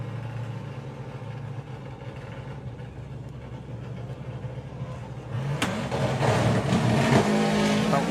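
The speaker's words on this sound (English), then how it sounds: "Dave Crowhurst is going to be in full send mode. He's been down into the 9-point freeze with this car before." A VW Beetle drag car at Santa Pod's Bug Jam eliminations idles loudly with a rough, throbbing engine, then launches hard around midway, the engine note surging into a loud, roaring run down the strip, close and without voices.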